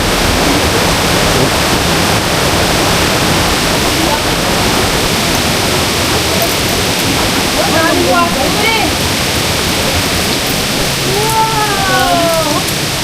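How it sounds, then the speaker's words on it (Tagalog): Mountain stream water falling from above into a pool at a roadside stop on a long ride in Quezon, a loud, steady rushing roar throughout with faint chirps near the end. "yung tubig na bumabagsak ko galing sa taas yun"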